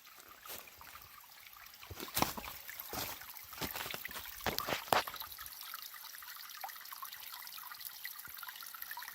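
Water trickling at a small outdoor pond, soft steady dribbling with scattered brighter drips and splashes, faint and close, no talk.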